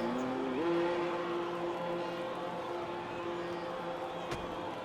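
Race car engine in a racing video game, a steady droning whine that rises in pitch early and then holds, with a brief sharp transient near the end.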